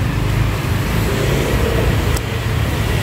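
Steady Sunday road traffic in Bangkok, a continuous broadband roar of cars, buses and trucks close by, with a brief faint high tick partway through and no talking.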